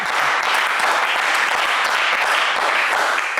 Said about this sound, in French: Allez, on applaudit Emmanuel.